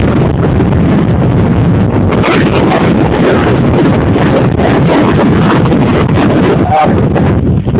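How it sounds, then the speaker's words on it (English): Strong wind gusts across a lake on a windy July day, battering the microphone with a loud, constant roaring rumble that barely lets up for the whole stretch. "that wind's just blowing"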